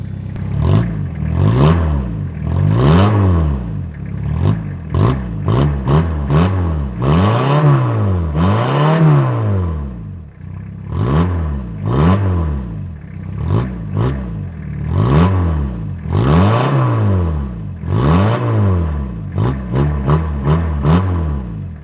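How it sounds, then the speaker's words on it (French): A car called the Mule with a homemade stainless steel exhaust revs hard again and again, loud, close rising and falling engine roars in a steady rhythm with short pauses between blips. "je vais aller accélérer, comme ça vous allez bien entendre le bruit de ce monstre mécanique"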